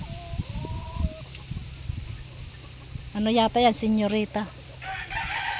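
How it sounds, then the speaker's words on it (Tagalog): A rooster crows loudly nearby while many domestic chickens cluck around it, with people talking briefly in the background. "Dami nilang alagang manok."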